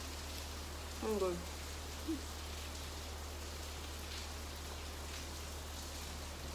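Rain falling, a steady soft hiss of drops across the whole stretch, with a brief spoken exclamation early on and a low constant hum beneath.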